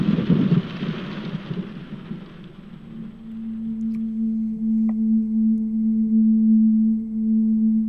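Steady rain with a low rumble of thunder in the first seconds, then a sustained low hum and a faint chirp under the wash of rain, fairly loud and continuous with no talking.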